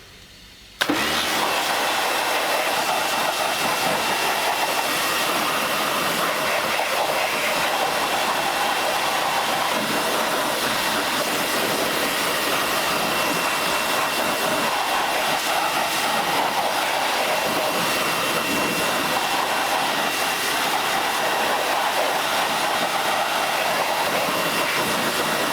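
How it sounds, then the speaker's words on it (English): A pressure washer sprays a car wheel with a loud, constant hissing roar that starts abruptly and runs without pause, with no talking. "now it's time to power wash it and let's see what this stuff can do"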